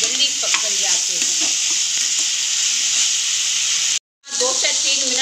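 Tomato masala sizzling and frying in a pan for a dhaba-style kadai paneer, a steady hiss with faint stirring that drops out briefly near the end before resuming.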